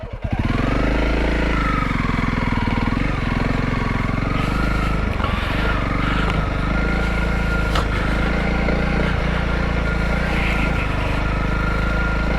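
Motorcycle engine ridden in first gear on a muddy route, a loud close steady drone with the revs rising and falling throughout, alone without talk.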